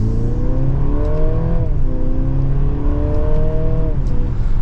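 A 2024 Mercedes-Benz GLC 300 Coupe in sport mode pulls hard in 2nd gear, its engine note climbing steadily, dipping briefly at a shift and then rising again, loud and close throughout.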